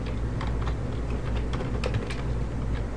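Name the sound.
typing code on a computer keyboard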